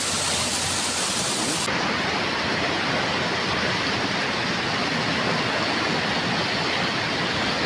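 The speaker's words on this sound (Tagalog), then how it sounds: "Yung ragasang tubig na yan, galing sa kalsada yan, galing sa bandang taas yan" Floodwater rushes down from a road in a loud, steady, broadband roar of flowing water, close and continuous with no voices, its tone turning slightly duller after the first couple of seconds.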